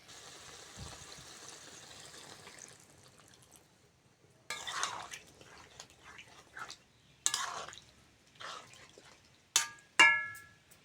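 Water is poured in short bursts into a pan of soybeans cooked down with spices for a curry, each splash and gush separated by brief pauses, ending in a louder pour and splatter.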